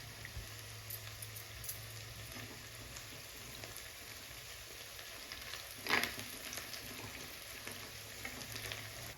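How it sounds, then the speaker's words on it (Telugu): Green chilies and onions fry in hot oil for an Andhra-style fish curry, giving a soft, steady sizzle throughout, with a brief louder stir or crackle partway through. "అలాగే పచ్చిమిరపకాయలు, ఉల్లిపాయలు వేసుకొని ఇలా వేపుకోవాలి."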